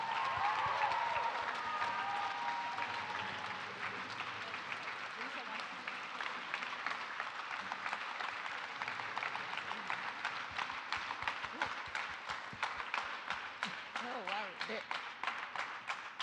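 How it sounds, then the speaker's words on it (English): Sustained applause from a large school audience at senior presentations, dense clapping that swells at first and then carries on steadily, with some crowd noise underneath. "One more big round of applause."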